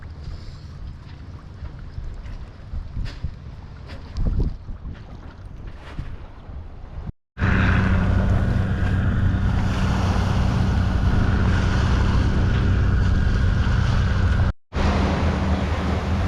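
Wind buffets and waves wash around a sailboat at sea near Krabi, Thailand. Quieter at first, then a loud, steady roar of wind and sea broken by two brief dropouts.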